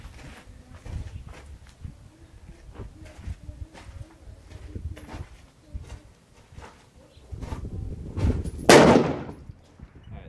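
A single sharp rifle shot cracks out near the end while sighting in a scope at the range, preceded by quiet rustling, handling noises and faint birdsong.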